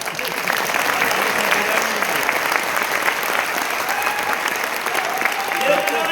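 Dense, steady audience clapping fills a business seminar hall, loud and continuous throughout, with no pause.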